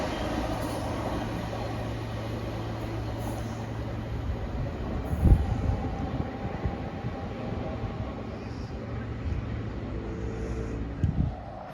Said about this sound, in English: the next train to pass by looks like it's going to be a lonely shed